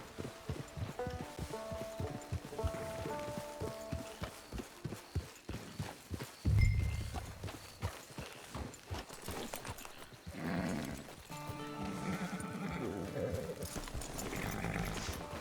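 Rhythmic clip-clop of horse hooves walking, with a horse whinnying, over soft game music and ambient sounds in Red Dead Online.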